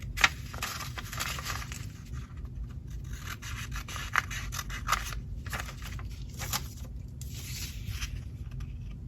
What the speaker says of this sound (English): Just snip all the way down to that crease that we made with our fold